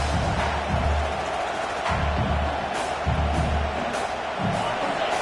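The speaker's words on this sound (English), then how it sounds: "This crowd bringing the energy and noise early." A large stadium crowd at LSU roars and cheers continuously during a football game, a dense wall of noise with swelling bursts, while a commentator's voice talks over it.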